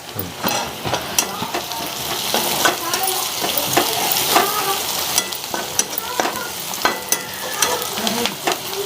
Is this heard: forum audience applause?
no